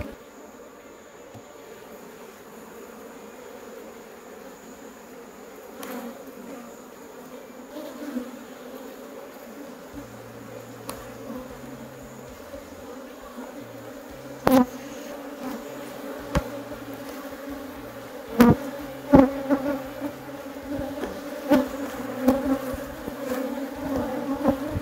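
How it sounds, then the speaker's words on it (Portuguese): A strong honeybee colony buzzes at a hive topped with two honey supers, a continuous low hum up close with occasional louder passes and knocks near the end. "O enxame tá pequenininho, sobre ninho tá com 2 melgueiras e tá muito forte."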